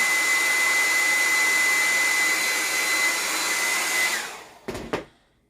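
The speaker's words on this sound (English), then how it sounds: "I'm going to do just a smidge with" A hair dryer blows steadily with a constant high whine for about four seconds, then shuts off, followed by a couple of brief knocks.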